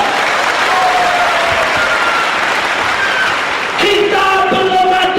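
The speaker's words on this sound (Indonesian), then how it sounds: "Tepuk tangan buat Tuhan Yesus." A church congregation applauding, dense loud clapping from many hands filling the room, with a few shouts and cheers rising near the end.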